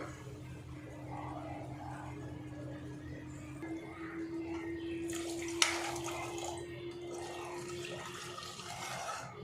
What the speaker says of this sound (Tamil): கொஞ்சமாக வாட்டர் ஆட் பண்ணிக்கலாம்.